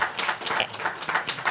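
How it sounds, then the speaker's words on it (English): Scattered audience clapping at a Georgia Senate special session event, a few distinct claps in an uneven, moderate-sized round heard alone. "Could you give them another round of applause for taking time out?"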